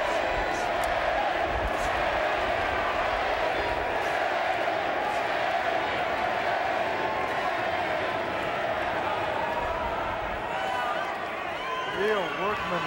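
Fans in a boxing arena roar for their fighter Kenny Keane, a dense, sustained crowd noise with a commentator speaking over it.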